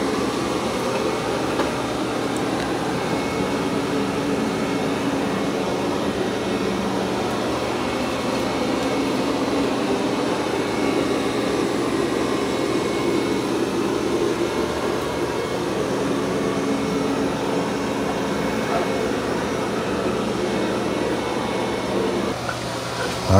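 A Roborock Qrevo Pro robot vacuum and mop works over carpet with its mop pad lifted, giving a steady, fairly loud whirring drone that holds unchanged throughout with no talking.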